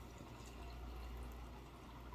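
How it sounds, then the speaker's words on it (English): Hot water poured into a canning jar holding dry beans, a steady faint gushing fill with no voices. "You then fill it with hot water"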